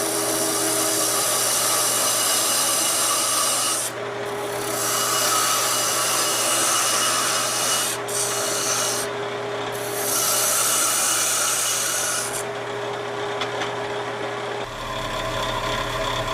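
Wood turning on a lathe as a gouge cuts the bottom of a flying saucer Christmas tree ornament: a continuous close, loud scraping hiss over a steady motor hum, its tone shifting as the tool moves, without speech.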